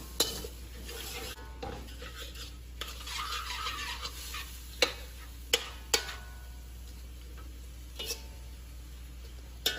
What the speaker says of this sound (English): We'll saute this around for about 2 minutes,